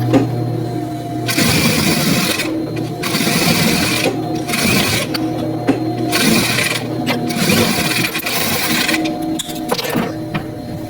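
A sewing machine stitches a churidar in several loud, fast-running bursts of a few seconds each, with brief pauses between them, heard up close without talking.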